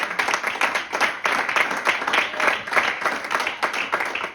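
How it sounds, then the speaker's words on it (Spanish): A church congregation claps and applauds together, a dense, steady wash of hand claps at moderate loudness that runs without a break from start to finish, with no voices standing out above it. "aplaude al Señor"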